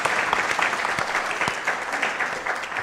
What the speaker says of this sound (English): can you just give a round of applause for Professor